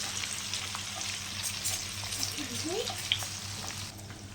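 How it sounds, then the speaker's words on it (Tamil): Rock fish frying in a pan with masala, a soft continuous sizzle with occasional stirring scrapes and a brief sharp tap near the end, fairly quiet and steady. "பாறை மீன் போட்டாச்சு பாருங்கள் நல்லா வறுத்துடலாம்"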